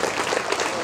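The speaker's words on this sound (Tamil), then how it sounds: "அந்த குழந்தைங்களுக்காக ஒரு பெரிய கைத்தட்டல் என்கரேஜ்மெண்ட் நம்ம கொடுக்கலாமா?" An audience claps for children in a brief, dense burst of applause. Many hands sound at once at an even level throughout.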